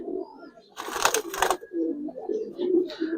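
Giribaz and Army pigeons coo in low, murmuring rolls close by, broken midway by a loud burst of broadband rustling like flapping wings.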